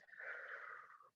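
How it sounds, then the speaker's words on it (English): Ujjayi breathing through the nose during a yoga practice, a single soft, steady breath with a hissing, slightly constricted wheeze lasting about a second, close and quiet with no talk. "Ujjayi pranayama, if that's in your practice. Inhaling and exhaling through the nose."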